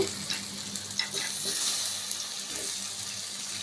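Chopped tomatoes hit a hot pan for a vegetable lentil dish, bursting into a loud watery sizzle with scraping stirring sounds over a few seconds, close up and without talk.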